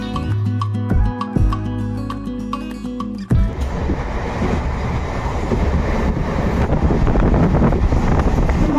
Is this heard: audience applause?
no